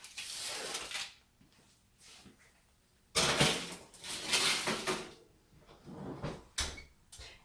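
A baking dish of shepherd's pie slid into a home oven set to 375, with clattering oven rack and door knocks, a quiet pause, then a loud bang of the door and more rattling handling noises.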